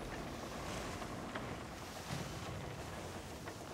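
A sailing ship at sea in the video game Skull and Bones, a dense, steady rush of wind and waves rolling continuously around the vessel, with no talk.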